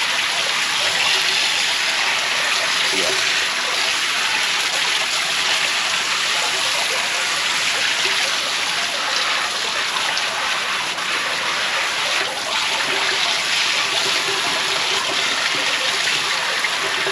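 Sewage water rushing steadily through a sewer line during sewer service, a constant broadband wash of flowing water that stays loud and unbroken throughout.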